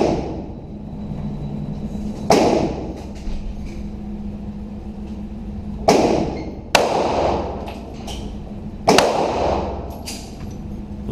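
Gunshots from a target acquisition shooting drill, fired at ranges out to 75, ring out as four sharp, loud reports spaced a few seconds apart, each with a short echoing tail over a steady low background.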